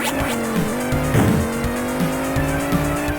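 Futuristic cars race and drift in the Amiga top-down racer All-Terrain Racing, loud buzzing synthesized engine tones mixing with continuous tire squeal, stepped pitch shifts and a brief crash burst midway.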